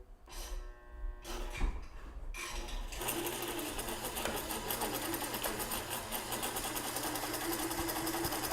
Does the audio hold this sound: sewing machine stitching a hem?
yes